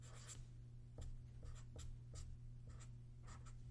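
Chalk writing an equation on a board during a physics lecture on RL and LC circuits: a run of short scratchy taps and strokes, fairly faint over a low steady room hum, with no talking.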